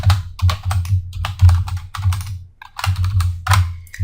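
Rapid typing on a computer keyboard while entering an application name in a WPF project setup, a steady close-up patter of keystrokes in bursts with a brief pause midway, and no voices.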